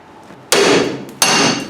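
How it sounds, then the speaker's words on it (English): Two loud, ringing metal strikes close to the microphone, about 0.7 seconds apart, as a hammer hits a pickle fork to pop an 11/16 castle nut joint during a drum-to-disc brake conversion; each clang decays briefly. "I'm gonna have my camera girl hit that with a pickle fork."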